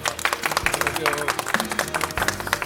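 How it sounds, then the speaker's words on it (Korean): Studio audience on a Korean talk show applauds as two guests are welcomed, dense clapping throughout with some voices mixed in. "여러분 박수로 맞으십시오."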